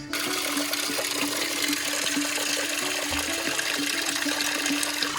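Mountain spring water pouring out steadily beside a roadside stop, a constant close rush and splash that holds even and unbroken throughout.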